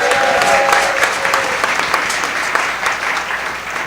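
Applause from a concert audience honouring a musician, a steady, dense clapping from a crowd heard close and loud for a few seconds with no talk.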